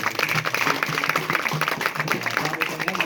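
An audience claps steadily at a church gathering, a dense, continuous patter of many hands filling the room at moderate loudness, with faint voices mixed in.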